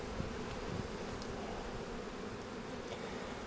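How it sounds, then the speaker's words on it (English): Honeybees swarming around an open hive during spring hive work make a dense, steady buzzing drone, close and continuous, with no voices. "A lot of bees."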